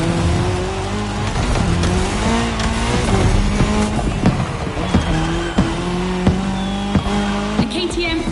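Cars and motorcycles race in The Crew Motorfest video game, including a KTM motorcycle and a Puma car, with loud steady engine roar, repeated tire squeals and skids throughout, and a voice talking over it.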